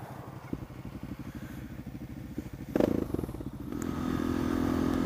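A Suzuki DR650 motorcycle idles with a steady, rapid thumping pulse, then revs up and holds a louder, rising engine note toward the end, with no talk.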